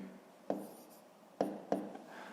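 Pen or chalk writing out a math solution for a fifth-grade exercise, three short sharp strokes over a faint, quiet background with no talk.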